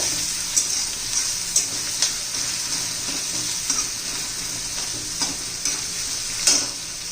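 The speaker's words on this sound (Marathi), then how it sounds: "त्याच्यात आता कांदा घालून घेऊ कांदा चांगला परतून घ्यायचा आपल्याला तांबूस रंगावर येईपर्यंत" Chopped onion sautéing in a hot pan for rajma masala, a steady close sizzle under scattered scrapes and stirs of a spatula, with no talking.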